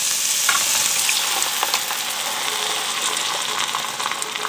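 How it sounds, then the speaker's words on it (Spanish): Canned tomatoes going into onion and garlic frying in olive oil, a loud, continuous hiss with a bubbling crackle and light splashy movement, no one speaking. "Ahora vamos a agregar las 2 latas de tomate."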